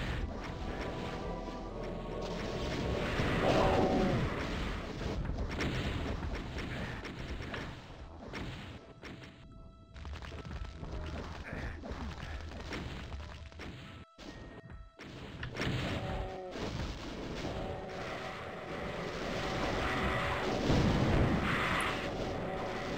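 Cyberdemon rockets bursting in a Doom II Sunlust level: a dense, continuous roar of heavy booming explosions and gunfire, loud and layered, with a couple of brief drops to near silence before the barrage resumes.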